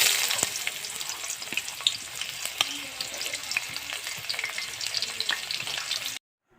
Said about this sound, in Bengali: তেলটা গরম করে পেঁয়াজ রসুন কুচি দিয়ে দিব।